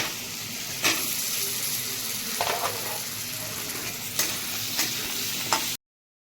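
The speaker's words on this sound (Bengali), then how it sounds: "এবার আমি আলু দিয়ে দিচ্ছি আলু দিয়ে আমি ভালো করে ভেজে নেব" Potatoes frying in a little oil in a pan, a steady close sizzle with occasional sharp stirring scrapes and clinks, then cutting off abruptly.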